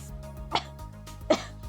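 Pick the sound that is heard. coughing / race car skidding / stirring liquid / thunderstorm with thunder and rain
coughing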